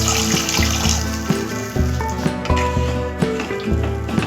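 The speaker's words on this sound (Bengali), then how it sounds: "এবার আমি জল দিয়ে দিলাম" Water is poured into a hot cooking pan of butter garlic chicken sauce with lemon. A gurgling, splashing flow pulses in quick uneven bursts over a steady hiss, close and moderately loud, with no talking.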